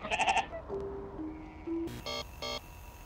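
Sheep bleating in the video game Amanda the Adventurer: a couple of short, nasal bleats up close, followed by tonal game chimes and beeps, with no talking.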